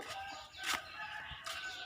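Chickens raised for sale cluck and call faintly at a farm chicken coop in Thailand, with a few brief, distant squawks rising over a soft, steady outdoor background.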